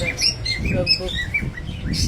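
Bright, high chirps and tweets from several small birds in a bird shop, repeated in quick irregular bursts over a steady background murmur.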